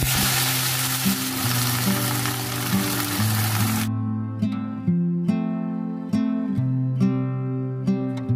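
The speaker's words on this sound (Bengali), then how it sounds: "তো দেখো এখন ভাজতে চলে এসেছি বোয়াল মাছ" Boal fish fries in hot oil with a dense, loud sizzling crackle that cuts off abruptly partway through, leaving low background tones with sharp clicks.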